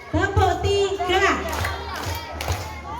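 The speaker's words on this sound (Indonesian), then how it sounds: "Tepuk 1, tepuk 2, tepuk 3." A group of children in a Quran class claps in a counted rhythm, a few sharp claps spaced apart while young voices chant loudly alongside them.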